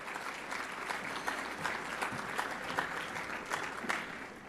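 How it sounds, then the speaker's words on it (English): Audience applause at a Latino awards ceremony, a moderate, steady patter of many hands clapping from a seated crowd, fairly even in level with small swells, no speech over it. "Please join me in applauding them as they contribute to Diamante."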